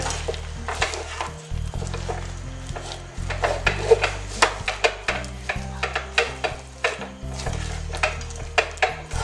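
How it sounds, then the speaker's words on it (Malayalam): Roasted peanuts being stirred through hot syrup in a pan for Kerala peanut candy, a steady run of close scraping, clinking strokes with a soft sizzle underneath, no voices. "നമ്മുടെ കടല ഞാൻ ഇതിലേക്ക് ആഡ് ചെയ്തു. നന്നായിട്ടൊന്ന് മിക്സ് ചെയ്ത് കൊടുക്കാം."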